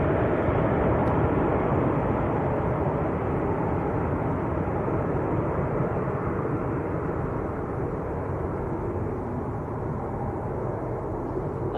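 A heavy aircraft taking off at Manchester Airport gives a steady, loud, broadband roar that holds for the whole stretch, a dense low rumble with no pauses or voices.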